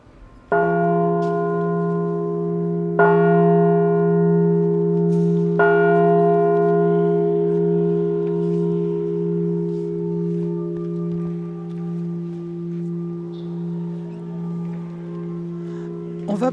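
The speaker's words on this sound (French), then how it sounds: "la cloche fait partie de ces instruments qui rappellent le son du 18e. Donc voilà le Fa." A church bell at Saint-Sauveur in La Rochelle, tuned to F, strikes three times a few seconds apart, each loud clang leaving a long, humming resonance that slowly fades.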